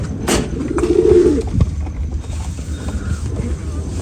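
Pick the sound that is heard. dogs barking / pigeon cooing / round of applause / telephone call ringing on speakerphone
pigeon cooing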